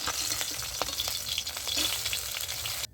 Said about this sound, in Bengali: আমার একদিকে লাল করে ভাজা আছে এবার এই পিসটা এপাশে পিসটা হয়ে গেলে আমি নামিয়ে নেব